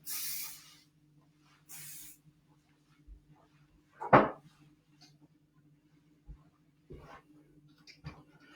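Session Spray hairspray comes from an aerosol can in two short hissing bursts near the start, close and fairly loud, followed by soft handling noises and clicks in an otherwise quiet room.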